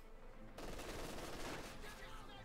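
Machine gun fire bursts out in a Company of Heroes 2 battle, a dense sustained rattle of rapid shots lasting about two seconds, fairly distant and subdued.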